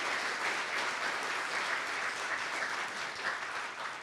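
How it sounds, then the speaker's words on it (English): A conference audience at a DevOps event gives a sustained round of applause for the day's speakers, a dense, steady wash of clapping from a large crowd lasting throughout. "let's give all of our speakers today a round of applause"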